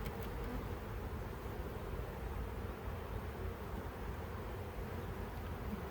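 A honeybee swarm drones steadily near a hive during swarm catching with a bee vac. The buzz is dense, continuous and fairly loud, with no pauses and no voices.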